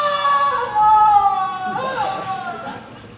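A person vocally imitates whining, a drawn-out nasal, pitched moan that wavers and slides downward, loud and close, alone without other sound.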